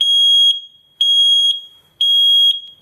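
Three loud, piercing electronic beeps from a carbon monoxide detector during a test, each about half a second long and evenly spaced one second apart, close by and alone.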